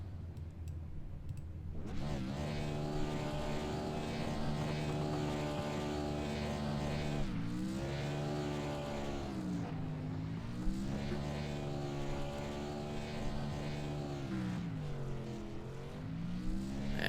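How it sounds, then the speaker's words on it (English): Pickup truck doing burnouts at Darlington Raceway, a sustained engine roar that rises and falls in pitch with revving, heard continuously at a moderate distance without speech. "we'll give Wesley Holland the opportunity to do some fantastic burnouts"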